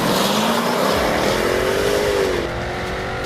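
A Jaguar F-Type V8S sports car roars with an uncorked exhaust on winding mountain roads in Spain, its V8 engine rising steadily in pitch under acceleration before easing off, loud and close throughout.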